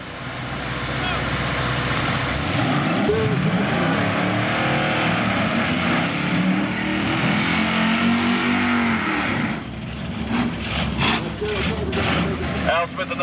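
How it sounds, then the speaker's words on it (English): Engines roar loudly at a drag race as a Camaro and a hot rod 1957 Volvo rev and launch, pitch sweeping upward while an announcer talks throughout. "In the far lane, we've got Al Smith running that Hot Rod 57 Volvo."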